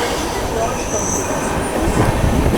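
A Delhi-bound express train overtaking at full speed beside a Howrah to Bandel local train: a loud, continuous rushing roar of wheels and wind, growing heavier and rumbling toward the end.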